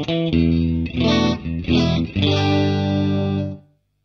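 A Stratocaster electric guitar played through Marshall Bluesbreaker and Albion GS30C amps strums a few ringing chords, loud and close, with the last chord sustaining before fading quickly to silence.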